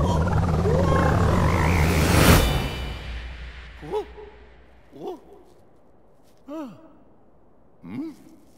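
A cartoon frog in Super Mario Odyssey croaks four times, each a short, loud, bouncy croak spaced about a second apart, after a rising whoosh with game music underneath.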